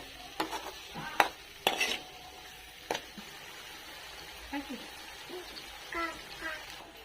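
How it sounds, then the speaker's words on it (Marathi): Ground masala paste for matar paneer is sautéed in oil with a spoon, a soft, low sizzle under scattered scraping and clinking of the utensil against the pan, quiet and close. "आता हे तेलात परतते मी हे बघा चांगला परतायचा आहे"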